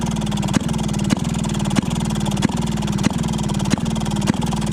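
An old Maytag 92 hit-and-miss engine runs steadily, close and loud, with sharp firing pops about every two-thirds of a second over a continuous low, chugging drone.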